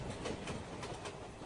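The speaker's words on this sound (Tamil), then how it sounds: "தம்பி, என் ட்ரெயின் வந்துடுச்சு போல இருக்கு." A train pulls into a station with a steady, loud rolling rumble and faint rhythmic clatter of wheels on rails, with no voices.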